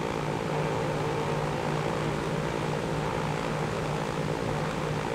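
A propeller airplane in Transport Fever gameplay takes off at full throttle with full flaps, giving a constant loud engine drone and a steady rhythmic propeller hum.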